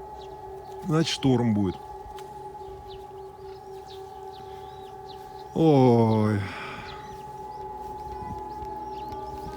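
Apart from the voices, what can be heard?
siren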